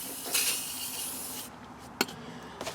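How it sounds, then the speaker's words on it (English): A short hissing burst of Amsoil MP cleaner sprayed from a can during a front driveshaft replacement, followed by a few faint knocks and rustles close by. "I'm just going to spray it down"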